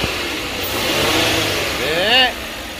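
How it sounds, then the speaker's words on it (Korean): A 2015 Lincoln MKS with a 3.5 AWD engine revs up and falls back, a steady mid-pitched engine roar with a brief higher whine near the end, while people talk close by. "악셀레이터 두 번만 쳐주세요."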